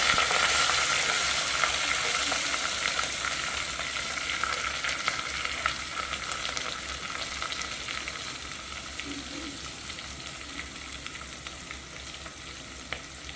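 Small shallots and large onions frying in a pan for chicken salna, a continuous close hiss and crackle of sizzling oil that fades slightly over time, with no talking.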